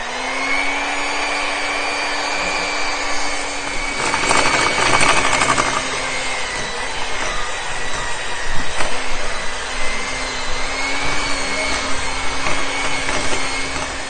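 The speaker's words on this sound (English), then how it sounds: "I'm going to use a hand mixer to cream the 2 of these together." Hand mixer creaming butter and sugar in a bowl for a Bajan rum cake, a steady close electric whir that runs throughout and sounds rougher and louder for a stretch in the middle.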